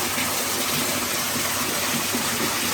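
A stream rushes through a rock slot just below a waterfall in the Clifty Wilderness of Red River Gorge, Kentucky: a loud, steady, broadband roar of water with no other sounds.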